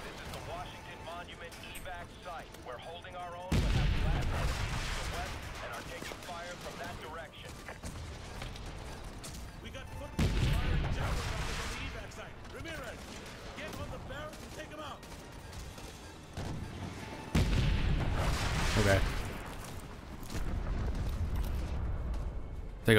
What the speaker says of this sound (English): Or I could just fire off this javelin a bunch of times.